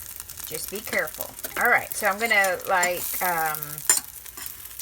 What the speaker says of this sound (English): So you want that sizzle.